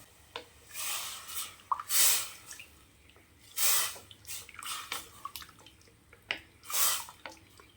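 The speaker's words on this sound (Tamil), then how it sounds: "அதனால் கொஞ்சம் தண்ணி சேர்த்துக்கலாம்" Water splashes and trickles into a pan of mutton curry in several short bursts, with drips and sloshing between pours, close and fairly quiet.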